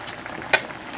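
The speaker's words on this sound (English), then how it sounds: "it's been boiling for about 3 minutes now" Fish adobo boiling in a wok at a high boil, heard as a soft, steady bubbling hiss with one sharp sizzling burst partway through. It is close and no one is talking.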